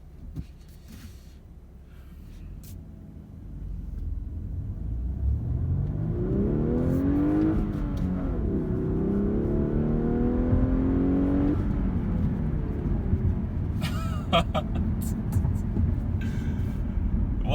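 A 2018 Audi A5 2.0T Premium Plus coupe with a six-speed manual accelerates through the gears, its engine note climbing and dropping at each shift, loud and close, with brief clicks and rustles around the pulls.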